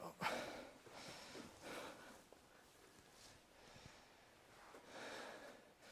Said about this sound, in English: Sounds like you're breathing heavier.